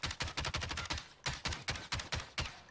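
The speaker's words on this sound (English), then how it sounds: "So we're gonna go ahead and fire off 30 bullets." Rapid bursts of gunfire from a gun loaded with stopping power rounds in Warzone, close and sharp, firing in quick clustered volleys with a short pause midway, about thirty rounds in all.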